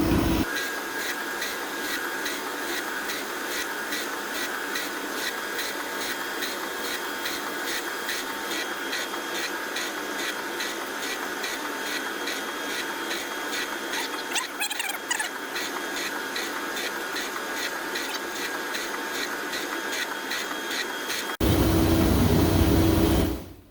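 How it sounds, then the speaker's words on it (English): A surface grinder grinds the face of a Skinner steam engine slide valve, giving a steady whining, hissing drone that runs unbroken for about twenty seconds, then briefly turns louder and rougher before cutting off. "to get through grinding the face of this slide valve"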